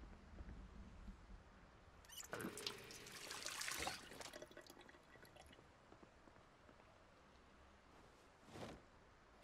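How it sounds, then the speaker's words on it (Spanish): A canteen is filled at a water dispenser inside a mansion during a storm in Project Zomboid: a short, faint gush of running water over a quiet, hissy background. "Vamos a llenar la cantimplora acá."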